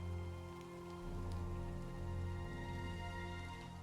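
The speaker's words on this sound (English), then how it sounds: "It is raining, which is not great for our siege weapons" Rain falls steadily during a video game siege battle, a soft continuous patter laid over low, droning game ambience and tonal hum, fairly quiet and without speech.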